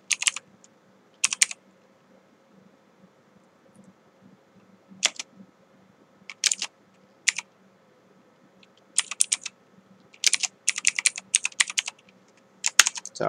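Typing on a computer keyboard while entering a software name as text in a motion-graphics editor, heard as short bursts of close, crisp key clicks separated by pauses, over a faint steady room hum.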